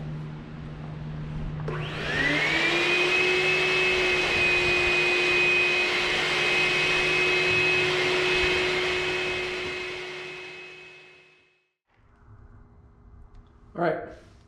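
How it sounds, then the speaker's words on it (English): A vacuum cleaner whirs up to a loud steady whine while sucking dust from inside the door of a 1962 Corvair Greenbrier, runs for several seconds, then winds down, followed by a brief knock. "So now I'm going to stick this vacuum down there"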